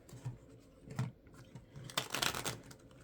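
Tarot cards are shuffled close by in a few soft riffling bursts, the fullest near the end, with no speech.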